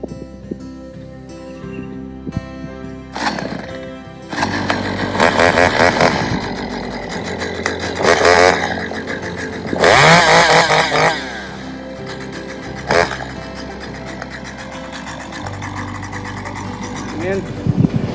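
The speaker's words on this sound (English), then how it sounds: "I'm gonna start up his littler chainsaw and let him get to work." A small chainsaw pulls and sputters, then revs up loudly and runs with rising and falling engine whine while cutting a log into blocks, close by, with brief voices in between.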